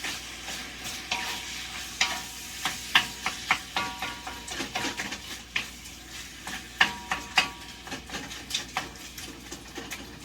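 Sausage for a stuffing fries in a pan with a steady sizzle, broken by a series of sharp scraping clicks as it is stirred and turned, close and clear with no talk.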